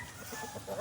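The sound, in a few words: young roosters (stags) clucking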